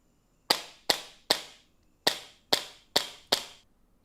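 A SIG replica infrared laser training pistol fires at a target indoors, giving seven crisp, close snapping clicks in quick succession with one short pause partway through.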